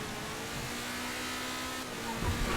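A car engine in the video game GTA Online, a steady continuous drone with a slight rise and rough burst toward the end, moderately loud with no talking.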